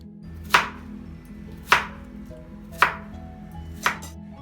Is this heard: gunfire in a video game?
no